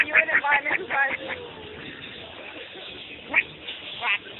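Ducklings and a mother duck quack in a burst of several short calls early on, then a few scattered quacks later, moderately close with light background noise.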